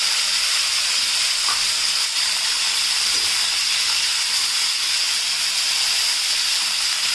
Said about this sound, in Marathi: तेलामध्ये आलटी पलटी करून घेऊयात म्हणजे आपली गवार तव्यामध्ये चांगली अशी फ्राय होईल